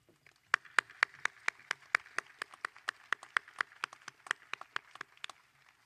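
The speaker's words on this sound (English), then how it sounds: "let's give you a round of applause" A high school commencement crowd claps for students being honoured. Distinct, evenly paced handclaps, fairly quiet and distant, with no voice over them.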